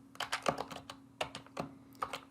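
Computer keyboard typing in quick uneven clusters of crisp, close key clicks with short pauses, quiet and without talking.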